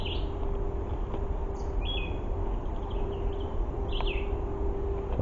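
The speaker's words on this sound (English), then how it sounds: "Because you can hear the birds," Wild birds call from hidden spots along a forest trail at an East Texas arboretum, a few faint, short chirps and whistles coming from a distance over a steady hiss of background noise.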